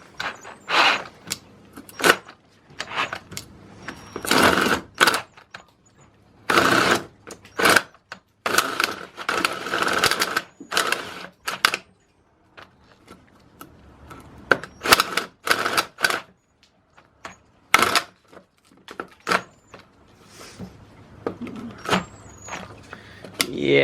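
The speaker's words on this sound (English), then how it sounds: "We're gonna try a Forstner bit and see what happens with this." A drill with a Forstner bit bores into a part for a homemade automatic rabbit feeder. It runs in short, close, repeated bursts that start and stop with brief pauses between them.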